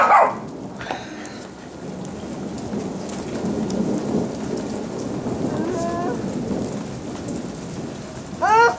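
A steady downpour of rain hisses and patters through a thunderstorm, with a low roll of thunder building in the middle, a dog whining faintly and brief voices at the very start and end.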